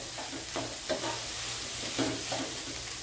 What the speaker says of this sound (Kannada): ಇದು ಒಗ್ಗರಣೆ ರೆಡಿಯಾಗಿದೆ